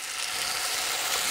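Zucchini fritter frying in hot oil in a pan, a steady, loud, close sizzle with crackling spatter and no pauses.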